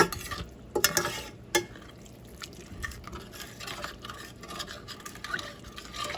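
A spoon stirs and scrapes the bottom of a pan of hamburger gravy over turned-up heat, with irregular scraping strokes, a few sharp clinks and a low sizzle, close and fairly quiet, no voices.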